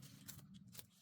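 Scissors snip through a Halloween sticker in a couple of quick, quiet cuts close by, with no talking.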